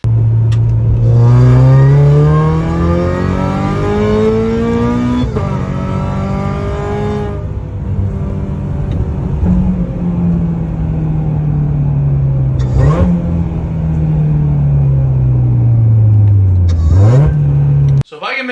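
Supercharged Toyota 86 engine revving up and down repeatedly, loud and close, with rising and falling pitch sweeps and a high whine riding on top.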